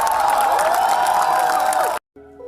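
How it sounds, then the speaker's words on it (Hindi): Audience applause and cheering at a poetry and shayari performance, a steady loud wash of clapping that cuts off abruptly near the end. "जोरदार तालियां"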